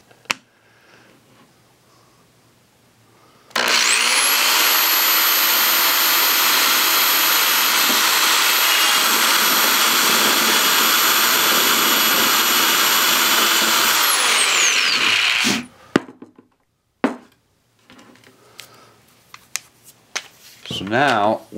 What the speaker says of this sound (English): So I'm going to go ahead and drill this hole now.